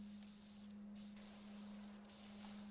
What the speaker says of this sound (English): Okay, I can just spray again.